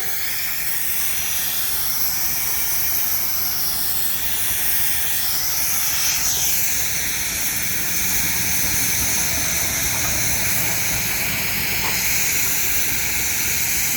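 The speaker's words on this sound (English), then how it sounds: "That's a steam engine I learned to drive on originally back in 2010." A Baker steam traction engine at a harvest show runs with a steady, loud hiss of steam, broad and continuous from start to finish, with no voices over it.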